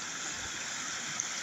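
River water flowing in a steady, faint hiss with no distinct splashes, heard alone without talk.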